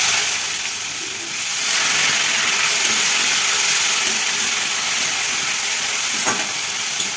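Sliced onions sizzle steadily in hot oil seasoned with cumin and a bay leaf, a broad continuous hiss close by with a brief dip early on and one sharp crackle near the end; no one speaks.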